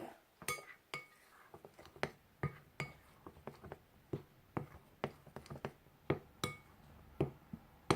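A spoon stirs in a sieve over a kitchen sink, giving scattered, irregular metallic clinks and taps, some sharp and some faint, spaced apart against a quiet background with no speech.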